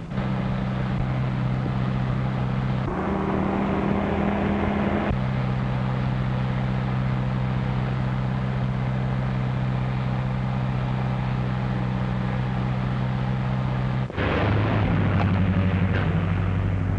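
A car engine hums in an old film, a loud, steady droning rumble with shifting tone that changes abruptly a couple of times as the vehicle draws nearer, continuous throughout with no talking.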